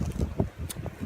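Strong gusty wind buffets the microphone beside a lake during a winter storm, a rough low rumble with brief swells and no talking.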